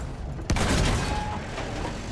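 Bombs exploding near a tank in Battlefield 1, a single sharp nearby blast that rumbles and decays over a steady background of battlefield noise.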